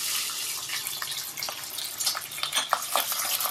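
Chopped onions tipped into hot oil with whole cumin seeds in a pan sizzle steadily, a close, continuous hiss with faint crackles and a few clinks of stirring.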